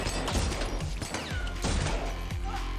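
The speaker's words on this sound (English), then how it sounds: "The few, the proud, the mother flippin' Jar Cannon." Jar Cannon in Elden Ring fires in a rapid string of heavy blasts and crashes, loud and close, packed with overlapping impacts and no speech.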